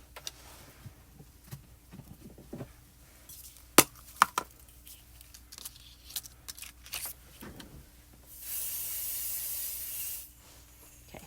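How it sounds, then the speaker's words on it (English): Scattered taps and rubbing handling noises, then a steady hissing spray from an aerosol adhesive can, applied to the back of a stencil, lasting about two seconds near the end. "I'm wondering if I should put a little pixie spray on the back of this."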